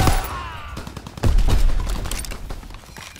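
Very loud gunfire in the Call of Duty WW2 video game, a dense rattling burst of close automatic shots with heavy low booms, running nearly continuously throughout.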